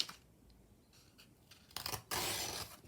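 Scissors trimming a paper journal page to size, a few quiet snips and then a louder sustained cutting rasp, close and alone without talk.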